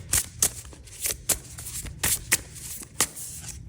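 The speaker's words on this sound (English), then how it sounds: "you see I shuffled right on camera" A deck of tarot cards being shuffled by hand, a series of crisp riffling bursts and soft slaps repeating every half second or so, close and fairly quiet with no talking.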